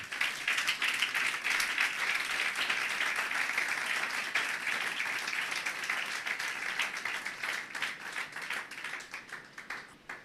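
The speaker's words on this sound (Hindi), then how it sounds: "अपने लिए ज़रा तालियां बजाएं।" A church congregation applauding during a live sermon, steady dense clapping that fills the whole stretch at close range and tapers slightly toward the end.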